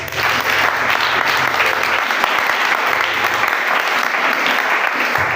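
A church congregation at a spiritual combat worship service claps loudly and continuously in acclaim of the Lord, dense applause filling the whole stretch with a low hum underneath.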